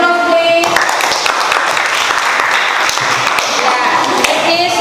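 Classroom applause from students clapping together after a presentation, a dense steady patter of many hands filling the room, with voices talking over it near the start and end.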